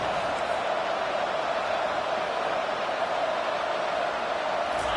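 Stadium crowd at an Ole Miss versus LSU college football game, a dense, steady roar of many voices that stays loud and unbroken throughout, with no clear individual words standing out.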